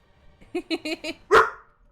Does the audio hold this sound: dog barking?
yes